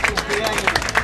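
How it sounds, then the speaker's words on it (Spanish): Dense applause and clapping from a group celebrating a grandmother's birthday, steady and fairly close, with voices talking over it throughout. "démosle un aplauso grande otra vez a la abuelita"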